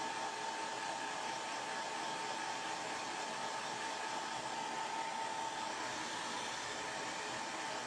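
A hair dryer blows steadily on a glittery craft heart cutout, a constant loud whirring hiss with a faint whine, running unbroken with no talking.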